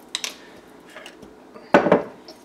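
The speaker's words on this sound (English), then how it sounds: "Keep mashing." Mashing food in a mixing bowl for freezer baked goods, a few scraping, clinking strokes of a utensil against the bowl, with a louder cluster of knocks near the end, no voices.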